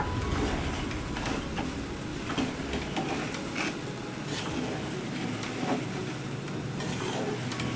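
Khichdi stirred with salt in a pan over steady cooking noise, a continuous loud hiss with faint scraping throughout and no voices.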